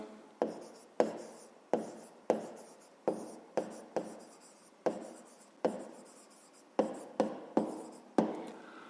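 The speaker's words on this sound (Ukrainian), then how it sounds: "Записуємо відповідь." A pen writes an answer to a fifth-grade maths exercise in a series of about a dozen short, crisp strokes, each a sharp tap followed by a brief scratching trail, close and quiet with no talking.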